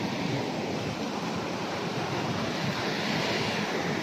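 Water rushing in a stream that has to be crossed on a walk, a steady broadband wash that stays loud and close without a break and with no voices over it.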